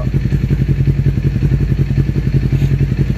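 A motorcycle fitted with a Jeskap GP3R exhaust tip idling close by, loud, steady low throb with rapid regular pulsing, measured around 98.8 dB(A).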